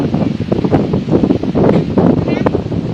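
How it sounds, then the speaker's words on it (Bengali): Strong gusting wind before a storm, a steady loud rushing roar buffeting the microphone throughout, with rustling and a brief faint voice. "এই যে তুফান আসতেছে, প্রচুর বাতাস"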